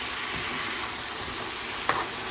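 Onion and tomato stirred together in a hot pan while making attieke, a soft continuous sizzle with a brief scrape of the spoon near the end, steady and close with no talking.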